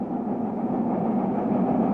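A 120-ton 1927 Baldwin Mallet steam locomotive from a lumber mill line gives a steady, loud, continuous rumbling roar with no distinct beats and no voices.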